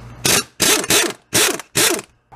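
An air tool rattles in four loud, close bursts as it works a 15 millimeter bolt loose on a 2002 Buick Rendezvous 3400 engine during harmonic damper replacement, with short pauses between bursts.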